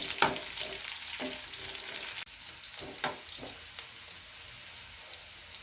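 Vegetables sautéing in oil in a pan for a Chettinad-style bitter gourd kuzhambu, a continuous sizzle broken by several distinct spoon scrapes and stirring clatters.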